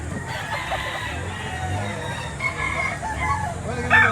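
Chickens cluck steadily while a rooster crows, with a busy, continuous background and faint voices mixed in, at a busy chicken market in Batangas.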